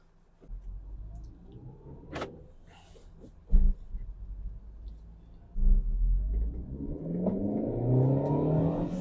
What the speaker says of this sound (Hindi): भाई साहब 6000 से भी ऊपर आरपीएम जा रहे हैं इस गाड़ी के